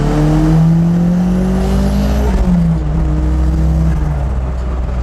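A turbocharged 300 BHP Mazda MX-5 engine pulling on low boost, a steady droning note rising slowly in pitch as it accelerates, loud and close from inside the car with no talk.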